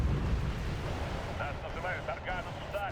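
Missile and artillery fire in the real-time strategy game Wargame: European Escalation, a dense run of heavy booms and rumbling blasts with whooshing launches, continuous and loud, with faint voices partly under it.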